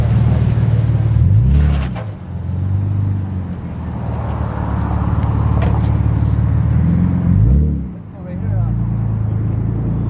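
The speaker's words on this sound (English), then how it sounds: "So this thing sounds incredible. It's the V12 naturally aspirated car." A naturally aspirated V12 supercar roars close by, its exhaust note swelling in two strong revving surges with rising and falling pitch over a continuous loud rumble.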